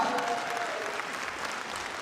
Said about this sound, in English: Please stand up and give them a big round of applause.